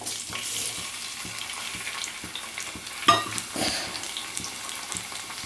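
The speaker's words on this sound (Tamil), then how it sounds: "இப்போ இதில் நம்ம தக்காளியும் புளியும் போட்டு நல்லா வதக்கணுங்க." Tomatoes and tamarind frying in sesame oil for tomato pickle, a steady close sizzle with soft stirring scrapes and a sharper clatter partway through, no voices.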